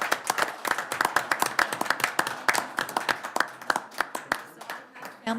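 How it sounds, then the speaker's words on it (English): A small group clapping at a city council meeting in Lindon, crisp individual hand claps clearly separable in an irregular, lively rhythm, fairly close, fading slightly toward the end. "That deserves a huge round of applause."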